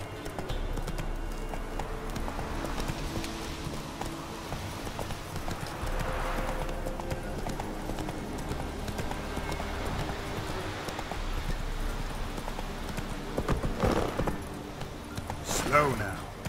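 Roach, a horse in The Witcher 3, trots with steady clip-clopping hooves under game music, and a voice speaks partway through, ending with a louder burst.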